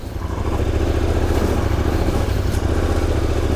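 A KTM 1090 Adventure motorcycle engine labours loudly and steadily on loose stones, its rumbling note holding close and continuous without any voices.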